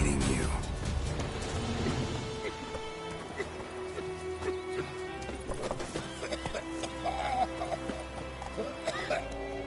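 Roach, the horse in The Witcher 3, gallops with steady rhythmic hoofbeats under a busy game soundscape of music and effects, with a voice speaking over it.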